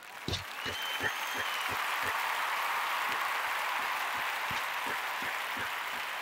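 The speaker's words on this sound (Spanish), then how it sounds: "Un aplauso para Vinicismo" A stream's crowd-style applause for a subscriber, a continuous bed of clapping and cheering that starts sharply with a few loud hits, then holds steady and fairly faint throughout.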